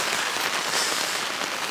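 Heavy rain drums steadily on a taut tarp nearby, a dense, even patter with no voices.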